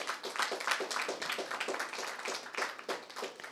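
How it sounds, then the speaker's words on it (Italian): An audience applauds at a book presentation in a bookshop, a steady patter of many hands clapping at moderate distance, continuous for several seconds without talk. "Un grande applauso per il nostro Massimo Chiacchiararelli."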